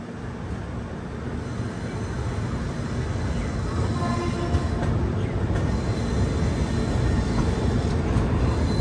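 Rumble and rattle from inside the Samata Express train as it runs on after leaving Titlagarh Junction, a steady, dense roar of wheels and carriage noise continuing throughout without speech.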